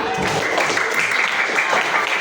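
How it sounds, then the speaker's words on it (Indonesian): A classroom of students claps together for a classmate, a short, lively burst of hand clapping that fills the room at close range. "tepuk tangan"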